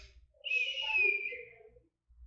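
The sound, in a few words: whistling imitation of asthmatic wheezing breath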